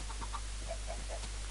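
Minecraft chickens clucking in a short run of soft, evenly spaced clucks, steady and moderately close, with no talk over them.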